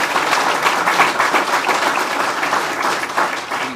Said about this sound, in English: So big round of applause for all of those folks as well that jump in.